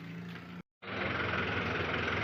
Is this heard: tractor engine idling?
yes